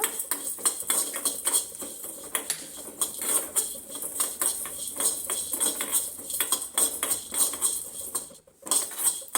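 Cumin and coriander seeds dry roasting in a pan, stirred with a metal spoon that clinks and scrapes against the pan in quick, busy bursts with a steady crackle underneath, close up and with no voices.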